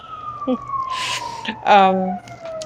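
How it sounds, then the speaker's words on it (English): A siren wails with a slowly falling tone across the whole clip while a person speaks briefly over it. "Sorry again for the siren, guys."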